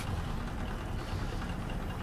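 A Volvo truck engine idles steadily in American Truck Simulator, a low, even rumble that holds at constant level throughout with no speech.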